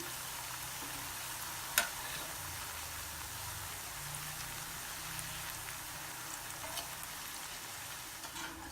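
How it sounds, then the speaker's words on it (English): Multigrain nacho chips deep-frying in hot oil, a steady, hissing sizzle like light rain running evenly throughout, with one sharp tap partway through. "Fry all your batches like this"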